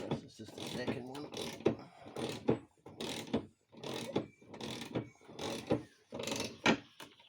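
A ratchet tightens the blade bolt on a ride-on mower, the blade braced with a D-clamp and a piece of wood; steady close clicking strokes repeat about every half second, with a voice present at moments.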